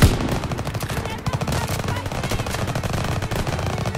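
Dense, rapid gunfire in Call of Duty rattles continuously from start to finish, sustained automatic bursts layered over one another with a loud, crowded, game-like battle mix.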